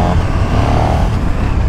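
A new KTM motorcycle pulls away and rides off in cold weather in Hamburg, its engine a loud, close, continuous rumble with wind noise throughout.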